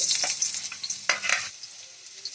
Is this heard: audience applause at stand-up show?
no